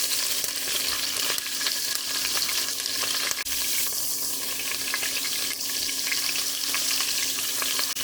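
Pork fat sizzles and spits steadily in a hot pan, a constant bright crackling hiss with small pops throughout.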